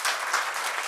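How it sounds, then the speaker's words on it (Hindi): A brief burst of dense, even audience applause welcomes a minister at the inauguration ceremony of a badminton academy in Varanasi, with no voices heard. "हम लोग तालियों से एक बार"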